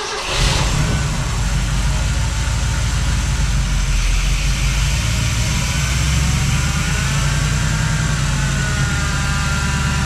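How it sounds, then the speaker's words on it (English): A 1966 Ford Galaxie with a fuel-injected engine and six-speed runs steadily up close, a loud continuous engine drone holding a fairly even pitch after it catches at the start, with no talk over it. "I just want it to drop down to idle."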